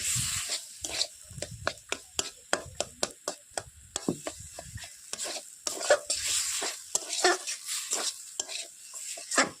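A spoon scrapes and clatters repeatedly against a pan as boiled potatoes and peas are stirred into a Bengali ghugni curry, in close, rhythmic strokes over a soft sizzle.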